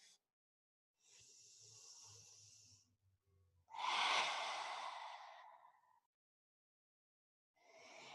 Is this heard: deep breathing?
yes